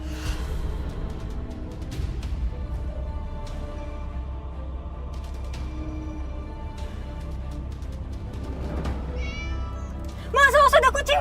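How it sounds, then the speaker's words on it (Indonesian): A cat meows over a steady low rumble of a moving car's interior, with a sharper burst of high cries near the end. "awas ada kucing"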